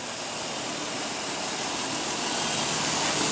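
A 2015 Toyota Tacoma with a 4.0 L V6 idles steadily just after start-up, giving a constant, even engine hum with broad hiss and no voices.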